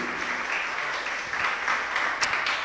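A church congregation applauds during a service held in a garage, with dense, sustained clapping, fairly loud and even from start to finish.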